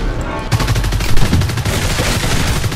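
A loud, close, rapid stream of shots fired at the monster in Evolve rattles on continuously with only slight pauses.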